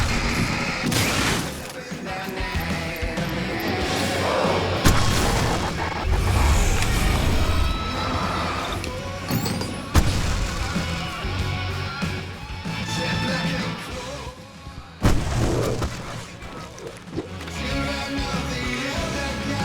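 Fireworks set off during a stage fight in Alan Wake, loud crackling bangs and rumbling blasts layered over continuous game action and effects, with occasional sharper pops standing out.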